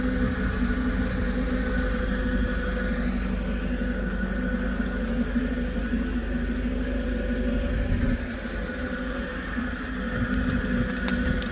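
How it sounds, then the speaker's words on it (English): A heavy-built firewood processor with a Perkins motor runs steadily nearby, a constant engine drone that holds roughly even throughout with a slight dip partway. "it is one beast of a machine. Perkins motor, all unbelievably heavy built."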